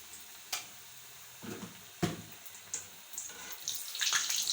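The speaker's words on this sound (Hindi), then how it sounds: "ऑयल गर्म हो चुका है। अब हम इसमें बल्ले ऐड करेंगे।" Gram flour bhallas frying in hot oil in a restaurant-style kitchen, giving a steady bubbling sizzle with a few sharp splashes and clatters; the sizzle swells louder and brighter toward the end.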